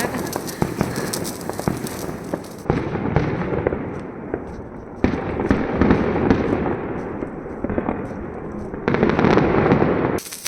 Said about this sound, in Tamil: மின்னல் மாதிரி ஃபுல்லாக அந்த பட்டாசு தான் வெடிச்சுட்டு இருக்காங்க